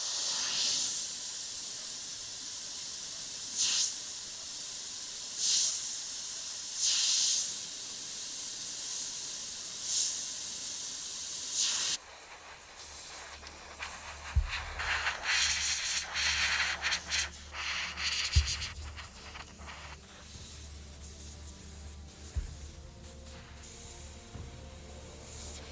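Airbrush hissing as it sprays paint onto a skull, working fuchsia flame highlights over a dried coat, in steady bursts with short pauses, then a denser continuous spray with a few low knocks.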